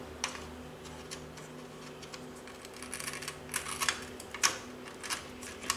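A Kawari dot clock board snapping into a cheap socket on a Commodore 64 250407 motherboard gives small close clicks and ticks, a cluster of brief plastic-and-pin snaps toward the end against a quiet background hum.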